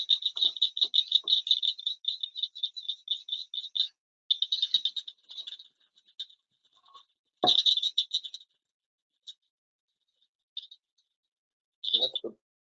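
Blanchard's cricket frogs giving sharp, rapid clicking calls like marbles clinked in a glass jar, a dense run of clicks at first, then shorter bursts and scattered single clicks with pauses between.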